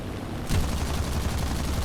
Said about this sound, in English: once you fire these cannons, they run out of ammunition rather quickly